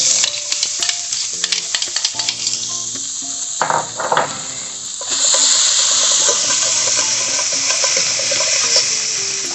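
Shallots tipped into hot olive oil in a pan, first a few clinks and stirring sounds, then a loud, continuous sizzle that swells and holds, with no voices.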